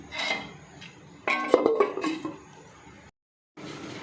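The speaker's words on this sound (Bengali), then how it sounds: "এবার আমি একটা ঢাকনা চাপা দিয়ে দিচ্ছি" A lid set onto a cooking pot, with rubbing and scraping metal sounds and a clattering clink as it settles, followed by a brief silence and then soft background noise.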